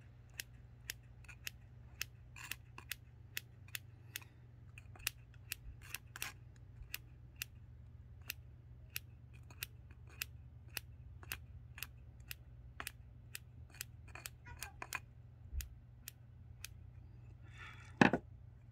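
Scissors trimming orchid leaves make a long series of sharp, crisp snips at a brisk, uneven pace, close and alone over a steady low hum, ending with a slightly louder rustle.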